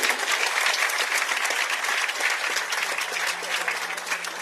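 A crowd applauds at a ceremony for solar-powered energy at hospitals in Sierra Leone, with loud continuous clapping from many people that holds steady throughout.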